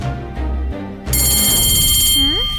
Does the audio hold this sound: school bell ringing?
yes